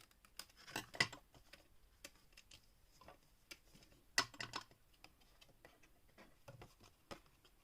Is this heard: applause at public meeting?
no